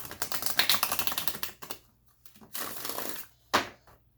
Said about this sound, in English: Sorry, I'm shuffling loud.